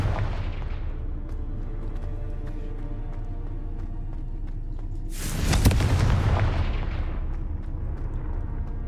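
A fiery Confringo blast spell erupts in the Hogwarts Legacy video game, a loud booming burst around the middle over a steady rumbling game soundscape, with no talking.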